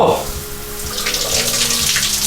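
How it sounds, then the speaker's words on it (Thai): Water spraying hard from a home shower head fed by a new SHIMGE constant-pressure pump, a strong steady hiss that starts abruptly and continues close by. "เรามาลองน้ำฝักบัวของผมกันครับ"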